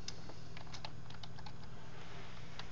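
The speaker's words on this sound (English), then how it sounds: "He could type in the new team administrator, give him a new password" Fingers tap steadily on a computer keyboard, a quick run of light, close key clicks over a low steady background hum.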